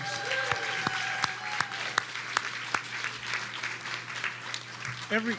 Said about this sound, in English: can we get one more round of applause for these wonderful award winners?